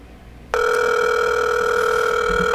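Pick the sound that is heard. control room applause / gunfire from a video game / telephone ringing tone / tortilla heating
telephone ringing tone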